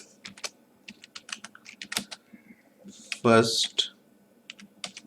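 Rapid clicking keystrokes on a computer keyboard while a note is typed in a customer record, steady close taps with a brief spoken word in the middle.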